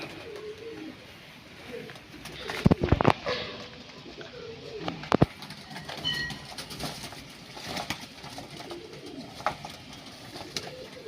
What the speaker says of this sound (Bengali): এই দেখো সব বসে পড়েছে চান করতে।